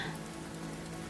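Steady rain pattering on a surface, a soft continuous hiss with a gentle tone underneath, even and unbroken throughout.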